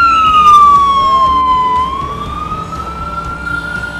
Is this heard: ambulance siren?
yes